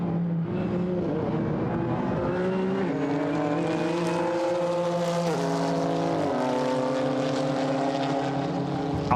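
GT4 race cars, including a Ginetta G55, roar through the Paul Ricard chicane, engines braking and climbing through the gears in loud overlapping passes.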